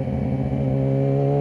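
A car on a narrow one-lane road: a close, steady engine drone with a rough low hum, continuous and loud, no voices.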